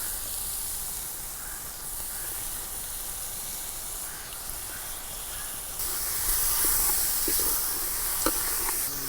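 Fresh king prawns, a kilo of them, sizzle steadily in a hot pan for a traditional Kerala prawn roast, a continuous hissing fry that swells slightly louder partway through, with faint stirring clicks and no talking.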